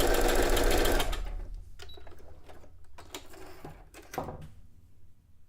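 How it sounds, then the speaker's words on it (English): A sewing machine runs a short test stitch, whirring loudly for about a second before dropping to softer, intermittent mechanical clicks and taps close by. "Let me do a little test stitch."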